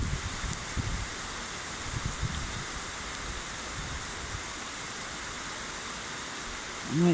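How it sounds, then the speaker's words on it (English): Heavy night rain falls over London in a constant broad hiss, with low gusty rumbles early on and a short spoken voice cutting in right at the end. "The rain's that heavy."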